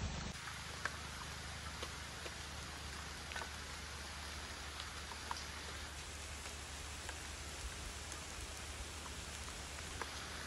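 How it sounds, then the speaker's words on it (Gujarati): Steady rain falling outdoors, a continuous soft hiss of drops on surfaces with a low background rumble, faint and even throughout without speech. "કારણ કે વરસાદ બિલકુલ ચાલુ."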